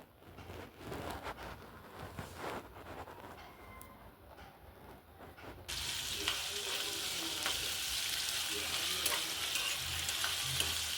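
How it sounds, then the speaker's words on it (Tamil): Cauliflower and cashews sauté in a pan for a home-style Indian gravy, a steady frying sizzle with stirring scrapes that grows louder and brighter halfway through, close and continuous with no talk. "இப்போ இதை நல்லா வதக்கிட்டு ஆற வச்சு அரைச்சி எடுத்துக்கோங்க."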